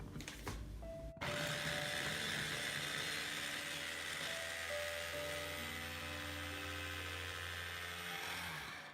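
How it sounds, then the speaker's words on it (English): An electric mixing machine, covered, whirs steadily as it blends pork marinade ingredients, starting abruptly after a brief click and running loud and continuous for several seconds before winding down. "right now I cover the machine and start to mix it"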